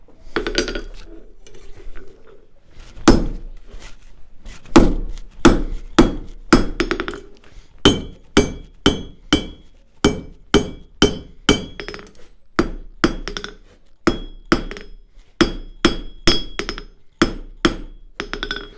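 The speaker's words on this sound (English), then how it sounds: "All right, we're going to begin forging now." A hammer forging a hot steel bar into a chisel, ringing in rapid, evenly spaced metallic strikes on the anvil, loud and close, with brief pauses between bursts and no speech.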